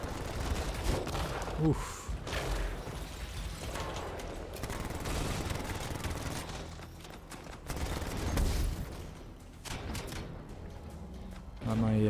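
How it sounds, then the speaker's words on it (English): A machine pistol fires in rapid bursts during combat in the Anthem video game, sustained gunfire and effects filling the mix while a player's voice speaks over it. "maybe the machine pistol was a mistake on this."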